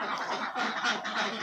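Ducks on a duck farm give a short burst of close, moderately loud quacking, several overlapping calls in quick succession.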